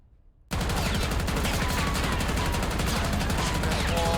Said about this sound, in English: Let me show you what the recoil combo looks like on the GPR and the firing range.